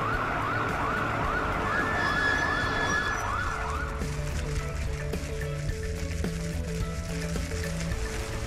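A cartoon fire truck siren wails in steady rising and falling sweeps, then shifts to a lower sustained two-tone horn pattern, loud and continuous throughout with no speech.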